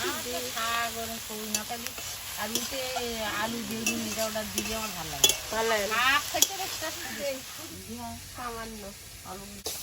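Greens being stir-fried in a wok, with a steady sizzle and scraping stirs running beneath continuous conversational speech from nearby voices.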